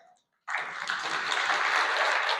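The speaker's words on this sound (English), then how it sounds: "a round of applause" An audience at a venture capital summit breaks into applause for a panel after a brief silence, a sustained burst of clapping that carries to the end.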